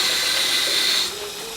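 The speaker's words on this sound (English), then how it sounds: "Going to add a bit of water" Water pouring from a tap into an emptied jar of tomato and garlic pasta sauce, a steady, loud hissing splash that drops and softens about two-thirds of the way through.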